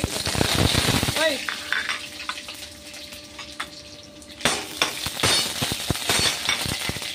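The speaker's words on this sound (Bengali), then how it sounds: "রসুন, লঙ্কা, সর্ষে ফোড়ন হয়ে গেছে।" Garlic, chilli and mustard seeds temper in hot oil in a pan, a steady close sizzle broken by clinks of a utensil against the pan, with a brief voice partway through.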